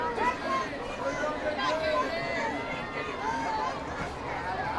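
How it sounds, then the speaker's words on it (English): A high school football crowd at Bill Brown Stadium at night, a steady wash of distant chatter and murmuring from the stands, with voices talking over it. "Good crowd out here tonight, Bill Brown Stadium."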